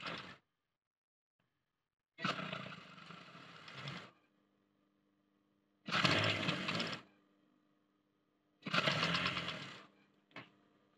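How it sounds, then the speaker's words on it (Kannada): Sewing machine stitching a loop onto boys' school uniform shorts, four separate close runs of steady whirring lasting one to two seconds each, a very short final burst, and quiet gaps between them. "ಇದನ್ನು ನಾನು ನೋಡಿ ಸಿಂಪಲ್ ಆಗಿ ಸೆಂಟ್ರಿಗೆ ಈ ಥರ ಸ್ಟಿಚ್ ಬಿಟ್ಕೊಂಬಿಡಿ"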